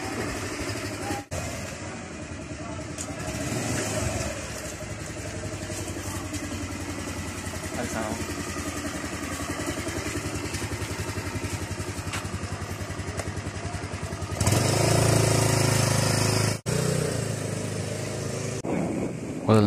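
TVS Dazz 110 scooter engine running steadily on a concrete road during a test drive, a continuous mid-pitched hum that swells louder near the end, with wind and road noise around it.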